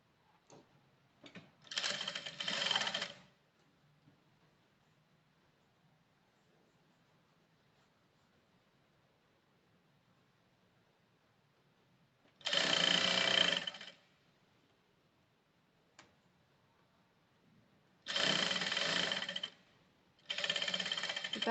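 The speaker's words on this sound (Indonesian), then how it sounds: "kita jahit di antara kedua jahitan bantu." A sewing machine stitching the sleeve of a woman's garment, running in short separate bursts of rapid mechanical whirring, close and clear, with near silence between the runs.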